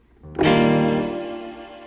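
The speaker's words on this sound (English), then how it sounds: "and then a shit ton of reverb going on" A sustained tone swells in and hangs with a long, washy reverb tail that slowly fades, loud and close.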